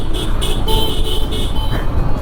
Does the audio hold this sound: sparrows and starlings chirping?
no